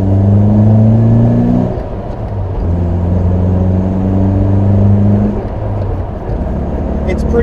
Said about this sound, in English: that was full throttle through second, third, and fourth